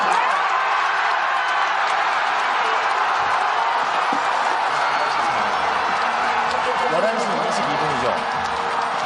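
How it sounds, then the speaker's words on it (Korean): Citizens gathered near South Korea's Constitutional Court cheer after President Yoon Suk Yeol's impeachment is upheld, a broad, continuous crowd roar beneath a voice talking over it. "즉시 파면되자 시민들이 환호하는 모습을 보여드리고 있습니다"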